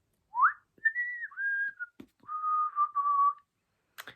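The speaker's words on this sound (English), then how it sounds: "And he whistles a little tune." Someone whistles a short, simple tune alone in a quiet room, with a few clear sustained notes and small slides between them, ending in a faint tap.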